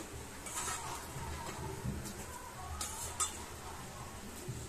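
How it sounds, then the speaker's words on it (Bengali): Jujube berries tipped slowly into boiling jaggery in a cooking pot give faint, scattered clinks and soft clatters over a low, steady bubbling background, with a few sharper knocks against the pot. "এই গুড়ের মধ্যে আমি আস্তে আস্তে যে কুলগুলো রেখেছিলাম, এই কুলগুলো আস্তে আস্তে আমি এর মধ্যে ঢেলে দেবো"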